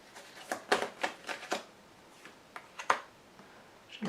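Tarot cards being laid out and handled on a table: a series of sharp, close papery slaps and flicks in an uneven rhythm, bunched early and then spaced out, with no talking.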